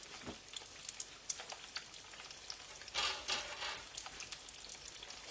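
Egg rolls frying in a skillet of oil at about 350 degrees crackle and pop softly. The spitting is faint and uneven, with one brief louder burst near the middle.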